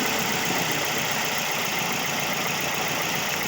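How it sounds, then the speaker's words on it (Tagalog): Toyota Vios engine with a knocking fault running at idle, a steady close mechanical drone with a dense, even ticking texture throughout and no voices. "narinig nyo yung knocking sounds niyan"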